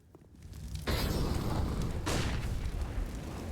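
Grenade explosions in Counter-Strike: Global Offensive on the Nuke map, two heavy booms in quick succession, each a sudden broadband blast with a long rumbling tail.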